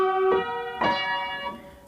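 Piano playing the second part of a song, three sustained chords struck one after another and left to ring, close and moderately soft.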